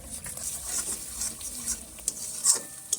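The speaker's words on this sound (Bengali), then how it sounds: "এর মধ্যে একে একে দিয়ে দেবো নুন হলুদ লঙ্কার গুঁড়ো ধনে গুঁড়ো কাশ্মীরি লঙ্কার গুঁড়ো এই সব কিছুকে ভালো করে একটু মিশিয়ে নেব" Salt, turmeric, chili powder, Kashmiri chili powder and coriander powder are stirred into a tomato masala for a potol chingri curry. A soft, wet sizzle carries under close stirring scrapes and a few sharp clicks of the spoon against the pan.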